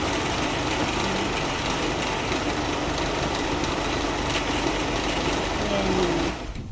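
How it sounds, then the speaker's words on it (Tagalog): A kitchen blender mixes food with beef cubes in a loud, continuous whirring drone that runs steadily, then cuts off abruptly just before the end. "So, biniblend ko siya."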